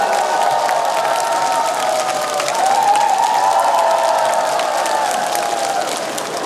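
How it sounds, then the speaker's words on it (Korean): Large audience applauding and cheering to welcome a Buddhist monk onto a stage at a temple event, continuous dense clapping with a sustained musical tone running underneath. "대륜 큰 스님을 큰 박수로 모시겠습니다"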